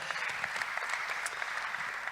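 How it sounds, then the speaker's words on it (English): An audience at a Cannes event claps for presenters, a faint, continuous wash of many hands heard from a distance, steady with no talk over it. "Let's give them a round of applause, ladies and gentlemen."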